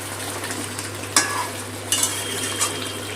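Chicken meat sautéing on a high gas flame for roasted onion chicken, a continuous sizzle with a few sharp scrapes and stirring clatters, close and steady with no voices.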